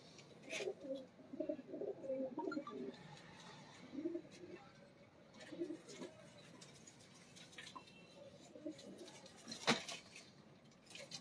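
Soft cooing of a female pigeon, a few low, throaty warbling calls in short bursts, quiet and close, with faint rustles and a sharp tap near the end.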